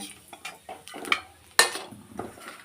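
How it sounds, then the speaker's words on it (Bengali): Cinnamon, cardamom and cumin dropped into hot oil in a pan for tempering, a few light clinks and stirring scrapes followed by a sudden sharp sizzle burst that fades into a quieter crackle. "একটু দারচিনি এলাচ সাদা জিরে সম্বার দিয়ে দিলাম"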